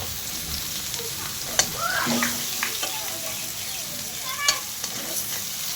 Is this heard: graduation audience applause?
no